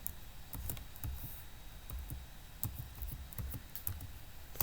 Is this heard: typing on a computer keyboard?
yes